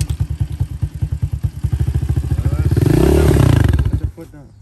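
An Apollo 125 dirt bike engine pulls away in first gear, a close, loud, pulsing putter that speeds up and swells into a rising rev before dropping off abruptly, with a voice talking alongside.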